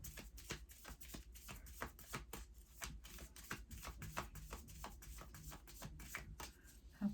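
Tarot cards are shuffled by hand in a quiet room, a soft run of quick riffling flicks and taps repeating in an uneven rhythm close by, with no talking.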